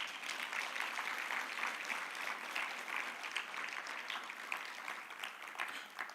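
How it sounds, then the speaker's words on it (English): Applause from a conference audience rolls on for around six seconds, a continuous mass of many hands clapping at moderate volume from across a hall, with no voices standing out. "Let's give them a good round of applause."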